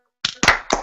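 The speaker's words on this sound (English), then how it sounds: "Can I get 2 claps and a woo for Ric Flair?" Sharp, close hand claps on a sports talk show, three quick slaps in a row against silence, without any talking.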